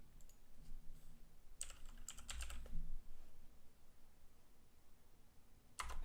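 A command is typed on a computer keyboard while testing a Minecraft Spigot plugin, with short bursts of crisp key clicks separated by quiet pauses and a final pair of taps near the end.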